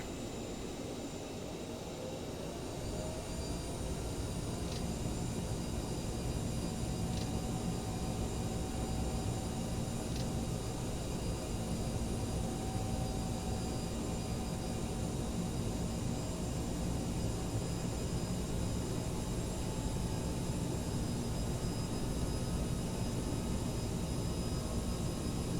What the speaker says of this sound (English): Cleared for takeoff runway 24 right Boss Air 202.